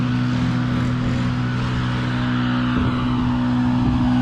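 A Stihl BR 800 leaf blower roars steadily as leaves are blown over a bank, a loud continuous engine drone with a strong low hum and airy rush, holding constant with slight surges and no voices.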